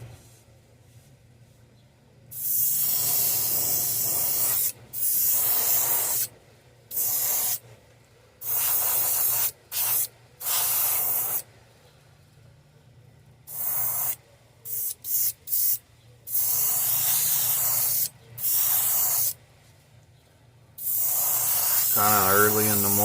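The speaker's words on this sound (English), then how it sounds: "If my airbrush will spray." An airbrush sprays base coat onto a fishing bait, hissing in repeated short and long bursts, starting and stopping irregularly, close and loud.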